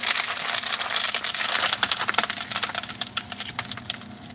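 Brown glass ground inside an InSinkErator garbage disposer gives a steady, harsh crunching and grinding with sharp crackles and splintering snaps throughout, fairly loud and close.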